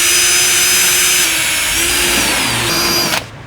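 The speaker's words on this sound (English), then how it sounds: "grab your 11mm drill bit and we're going to widen the holes where those clips went in earlier" A power drill with an 11mm bit runs continuously at high speed, whining loudly and steadily as it widens clip holes in a Hyundai i30 Sedan N under tray for a splitter kit install, then cuts off abruptly at the end.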